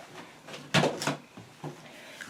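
A cat plays with a box, making a few soft scraping and thumping knocks, one sharper bump standing out, close and fairly quiet.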